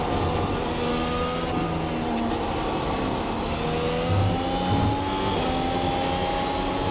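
A Mercedes W12 Formula One race car engine roars in the iRacing sim, a loud sustained high-pitched whine with rising and falling rev tones as it shifts through gears, continuous with no voices.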